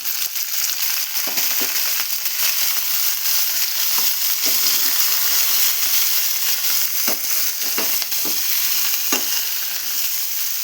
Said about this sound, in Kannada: ಇವಾಗ ನಾನು ತೊಳೆದಿಟ್ಟಿರೋಂಥ ಹೂಕೋಸನ್ನ ಹಾಕ್ಕೊತೀನಿ